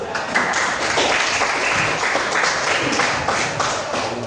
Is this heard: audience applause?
yes